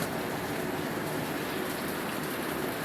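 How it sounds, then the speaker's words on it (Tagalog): Steady rain hisses and patters continuously on a surface, an even wash of noise with no voices. "Umuulan."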